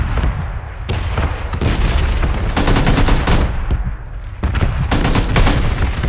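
Rapid gunfire bursts and booming shots from a PUBG firefight, loud and dense, with repeated volleys and sharp cracks over about six seconds and no talk.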